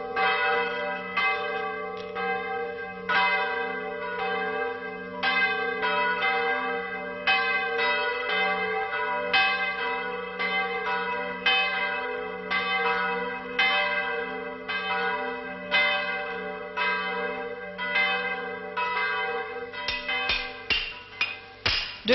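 Bells in a French bell foundry ring in a steady stream of overlapping metallic strikes, each leaving a long shimmering hum, loud and close, with a quicker flurry of hits near the end.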